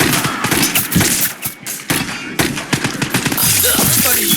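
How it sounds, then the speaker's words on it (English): Rapid automatic gunfire in the shooter Scavengers rattles in close, loud bursts with short gaps between volleys, followed by a steadier stream of shots at the end. "Somebody's shooting me."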